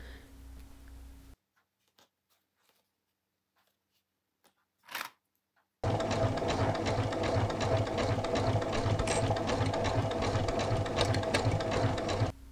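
A sewing machine stitches binding onto a fabric circle. It runs briefly at the start, falls silent apart from a short rustle, then returns as a loud, steady, close mechanical whir that carries on to the end with no talk.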